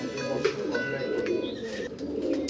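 A pigeon coos softly in low, rolling phrases that repeat through the moment, moderately near, with faint background noise and no speech.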